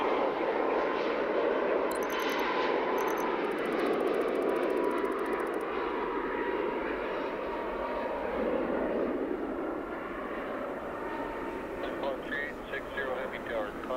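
Airliner engines roaring steadily through a takeoff roll in Microsoft Flight Simulator, a loud continuous broadband rumble lasting throughout, with brief radio-style beeps and chatter layered on top.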